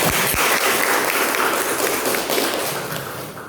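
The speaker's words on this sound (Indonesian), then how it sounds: "Tepuk tangan buat kita semua" A classroom of students applauds together at the close of a lesson, a dense, loud wash of clapping that holds steady and then gradually thins toward the end.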